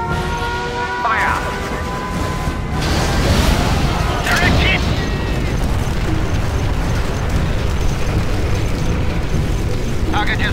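A bombing run in C&C: Generals sets off heavy explosions that destroy the target: a loud, dense, continuous rumble of blasts and debris, with a brief voice near the start.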